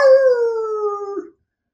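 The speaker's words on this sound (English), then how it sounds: "the dog is still howling." A single dog howl, loud and close, holds a steady tone for just over a second, sliding slightly downward before cutting off abruptly, with no one talking.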